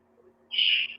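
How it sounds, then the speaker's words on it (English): A pet bird gives one loud, shrill, sustained call lasting about half a second, close by, over a quiet indoor hum. "Can you hear the bird?"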